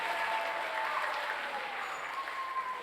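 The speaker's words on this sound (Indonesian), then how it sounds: "tepuk tangan buat kita semua" Dense, continuous applause from a seminar audience at a business training event, steady and fairly loud throughout with no single claps standing out.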